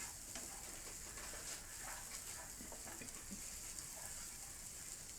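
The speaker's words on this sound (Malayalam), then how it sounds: "നമ്മൾ ഇത്തിരി നേരം ഇത് ഇളക്കണം." Vegetables with crushed pepper sizzle steadily in a hot pan while being stirred, a continuous fine crackle with faint scraping, close and moderately quiet, no voices.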